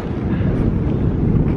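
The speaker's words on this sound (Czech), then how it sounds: "Jak můžete slyšet, dneska po ránu fakt začalo foukat." Strong morning wind buffeting a microphone outdoors in Greenland during a mountain bike trip, a loud, steady low roar of gusting air with no speech.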